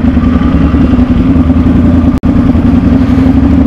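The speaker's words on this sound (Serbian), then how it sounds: "Vi niste svjesni koliko ovo glasan motor." A Ducati Monster 696 motorcycle with open exhaust idles loudly and steadily nearby in a low, throbbing rumble, with one brief dropout partway through and no talking.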